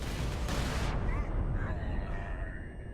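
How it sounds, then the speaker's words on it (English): A flash grenade bursts in a Warhammer 40k: Space Marine multiplayer match: one loud, sharp blast followed by a thin, high ringing tone that slowly fades. "Ah, bloody flash grenades."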